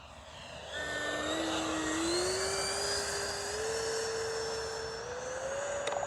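A Freewing 70mm F9F-5 RC jet with its landing flaps down makes a low, slow pass, its electric ducted fan whining loudly and steadily as the pitch rises gradually, with no voices.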